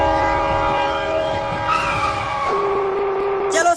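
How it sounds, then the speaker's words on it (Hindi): A cartoon train pulls into a station with a loud, tonal squeal of braking wheels that drops in pitch, then ends in a short hiss. "आ गई ट्रेन, आ गई ट्रेन।"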